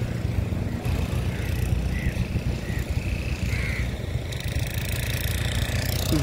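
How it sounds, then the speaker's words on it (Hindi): A tractor engine runs steadily on Chennai's Marina Beach while pulling a boat out of the sea, a continuous mid-pitched motor drone with faint higher sounds above it and no speech. "अच्छा ये ट्रैक्टर है वो खींचता है इनको"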